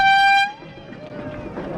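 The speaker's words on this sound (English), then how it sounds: "What, the air horn?" A loud air horn blasts in a public spot on a slippery bridge, one sustained toot lasting about half a second before it cuts off, followed by background street noise and voices.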